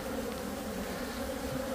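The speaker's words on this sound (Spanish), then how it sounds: "Mira cómo le atacan las abejas." Bees buzzing close up as they swarm and attack a sphinx moth, a dense, continuous droning hum that stays steady and loud throughout, with no voices.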